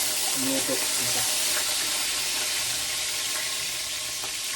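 Garlic and onion sauté in a hot wok, a steady loud sizzle with occasional stirring scrapes and clinks; a voice is faintly present at times.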